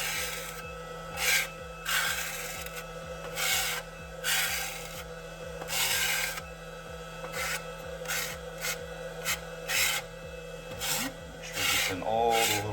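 Excess paint being scraped off an engraved deck box in steady, repeated rasping strokes, close and fairly quiet, over a constant low mechanical hum.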